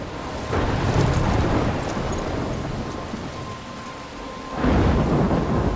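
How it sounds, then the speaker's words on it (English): A thunderstorm in the video game Life Is Strange: heavy rain pours steadily while deep rolling thunder rumbles at the start and crashes again loudly near the end, with no one speaking. "I'm trapped in a storm."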